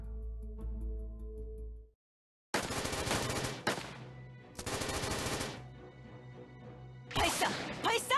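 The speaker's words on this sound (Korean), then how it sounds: "발사! 발사해! 엘프 녀석들이 더 접근하지 못하도록 계속 발사해!" Rapid machine-gun fire from the video game Trickcal RE:VIVE rattles in loud sustained bursts, separated by brief pauses, following a low droning passage.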